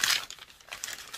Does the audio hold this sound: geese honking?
no